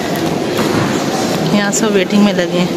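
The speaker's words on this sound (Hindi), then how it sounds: "यहाँ आएगी मेट्रो" Airport metro train pulling into a station platform, a steady rumble with rail clatter building beneath ongoing talk.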